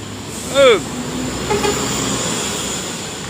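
A departing bus at a bus terminal gives one short, bright honk over steady traffic and engine rumble, then the road noise carries on.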